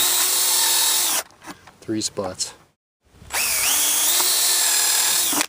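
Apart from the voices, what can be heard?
power drill pre-drilling wood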